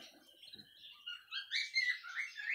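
A young male canary chirps and twitters nearby in a series of bright, rapid high trills that grow louder toward the end, with a few soft rustles in the cage.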